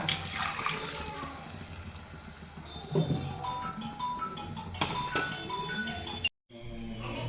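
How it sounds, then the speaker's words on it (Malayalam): More water is poured into a pot of simmering rajma (kidney bean) curry in a home kitchen, giving a soft, continuous trickle and splash under general kitchen clatter. "കുറച്ചും കൂടെ വെള്ളം ഒഴിക്കാം."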